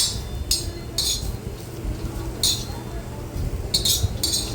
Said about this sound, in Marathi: हे मी एका डिशमध्ये काढून घेते थंड होण्यासाठी